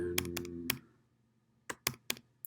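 Shift and arrow keys pressed on a computer keyboard, heard as a handful of crisp, close clicks in two small bursts with a quiet gap between them.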